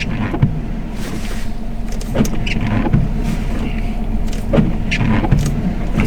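A struggling truck engine runs as a steady, loud rumble from inside the cab, with occasional knocks and rattles breaking through the drone.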